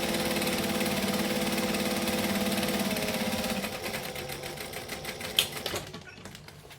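A sewing machine runs in a steady, rapid whir while stitching a crossbody bag, then stops partway through, leaving a few light clicks and handling noises.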